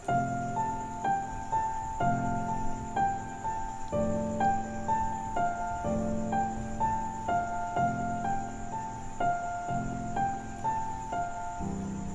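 Catchy, simple arpeggio of plucked repeating notes stepping over a sustained chord progression in an original song, even and steady throughout, no voices.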